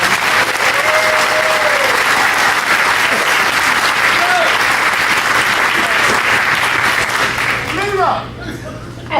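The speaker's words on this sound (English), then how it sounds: "Please, one more round of applause for everyone nominated this evening" Audience applause fills the room at the MBCC Awards 2014 ceremony, a dense, loud, sustained clapping from a large crowd that tapers slightly near the end.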